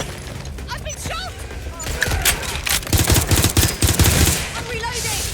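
Automatic gunfire in the action game Watch Dogs Legion, rapid loud bursts that build to a dense volley in the middle, mixed with impacts and shouting voices.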